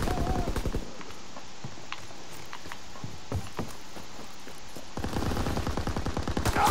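Gunfire in Call of Duty WWII multiplayer: rapid automatic bursts at the start and end, with scattered single shots between them over steady battlefield noise.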